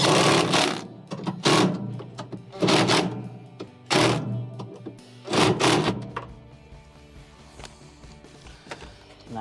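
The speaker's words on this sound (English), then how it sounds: "Go around the perimeter and tighten the remainders." Bolts being tightened on the motor assembly of a Samsung washer that will not spin, heard as close, loud bursts of ratcheting and clicking with short pauses between them.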